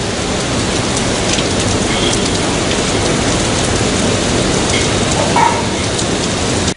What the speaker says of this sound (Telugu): నగరంలోని చాలా ప్రాంతాల్లో గాలివాన కురిసింది.